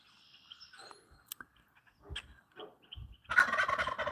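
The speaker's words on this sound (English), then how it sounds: "Yeah, he's gobbling away." A turkey gobbles in a forest campsite, with faint scattered sounds first and then a loud, rapid, rattling gobble that bursts in near the end and carries on close by.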